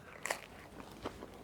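Teeth bite into crunchy, crisp-baked pizza topped with American cheese from Nardone Bros, making a couple of short, close crunches and small chewing crackles with no talking.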